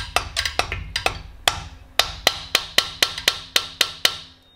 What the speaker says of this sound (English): I'm just gonna use a long socket and my mallet and very lightly tap it.